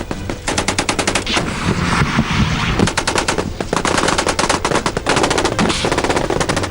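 Indiscriminate machine gun firing blasts out in loud, rapid bursts, long strings of shots separated by short pauses, with no talk over them.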